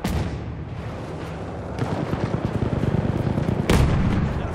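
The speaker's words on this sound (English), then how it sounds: "Machine gun! Hostile!" Machine gun fire in Battlefield 1 on a desert battlefield, rapid dense bursts of loud gunfire with deep booming impacts, intensifying toward the end with a sharp heavy blast.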